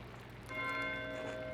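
A monastery bell in the video game Pentiment begins to toll partway through, one clear ringing strike that hangs and fades over a soft rainy background, quiet and somewhat distant.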